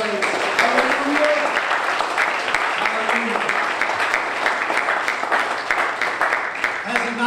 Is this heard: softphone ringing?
no